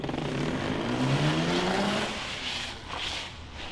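Four-horsepower electric motor on a rebuilt early electric mini bike whining upward in pitch as it launches, a rising hum that fades as the bike pulls away, without talk.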